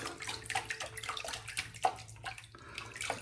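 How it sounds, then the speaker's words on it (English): Water runs and splashes while a 24 millimeter silver tip badger shaving brush is rinsed under a tap, a steady close trickle broken by wet sloshing bursts. "Do a quick rinse out here on the on the brush"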